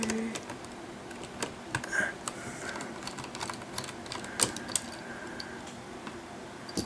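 Laptop keyboard keys being worked on give scattered plastic clicks and taps at an irregular pace, close and fairly quiet, with a few sharper snaps.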